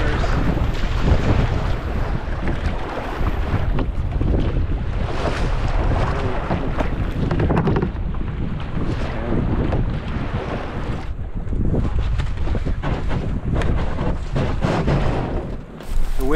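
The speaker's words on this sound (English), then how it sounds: "The winds are too crazy" Strong wind buffets the microphone at the edge of an exposed inland sea during a windbound river camping trip, a loud, steady roar with gusting surges and waves breaking behind it for the whole stretch.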